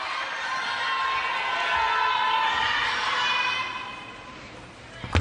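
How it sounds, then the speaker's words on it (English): A table tennis crowd at a WTT Champions event in Yokohama roars and cheers in a swelling wash of voices that peaks mid-way and fades, with a sharp clap or shout at the end. "which has got the crowd whipped up"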